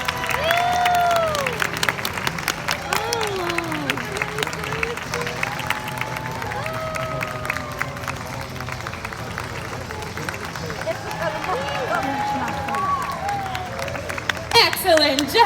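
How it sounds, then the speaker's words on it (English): Audience applause and cheering at a sea lion show, a steady crowd clatter running throughout with a presenter's voice talking over it. "Let's keep that applause going."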